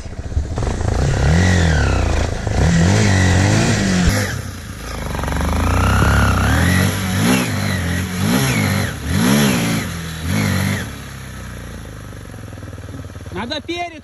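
A Minsk X 250 enduro motorcycle engine revs up and down in repeated throttle blips, loud and close, its pitch climbing and falling with each burst.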